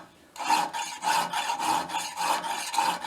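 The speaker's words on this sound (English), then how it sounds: "I'm using this larger file to go up the curve, and then I'm using a small file" Hand file rasping across the curved metal end cap of a Tiger Cub motorcycle muffler, a steady rhythm of about six close, even back-and-forth strokes after a brief quiet start.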